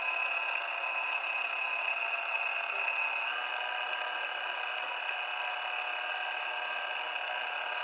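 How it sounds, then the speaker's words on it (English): A vintage electric mixer beats meringue cookie batter in a bowl, giving a steady, close, unbroken motor whine that holds the same pitch throughout with no talking over it. "So we're going to keep beating this until it gets foamy"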